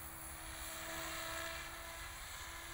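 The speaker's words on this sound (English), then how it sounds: "I can try to do some very, very small figure eights here, close to the camera to make this heli more visible." An M4 RC model helicopter flies close by with a steady, loud whining buzz of rotor and motor that holds without a break throughout.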